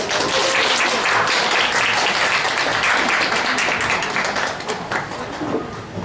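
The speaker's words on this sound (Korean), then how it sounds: "박수를 모시겠습니다" Church audience applauding to welcome a priest, Father Park Jong-ri, before a Gospel reading; dense, steady clapping from a crowd fills the whole stretch, thinning slightly toward the end.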